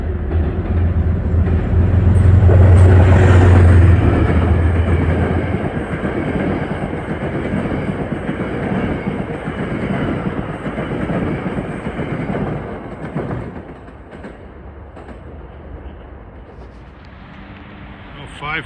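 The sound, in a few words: Metro-North commuter train passing on the Harlem Line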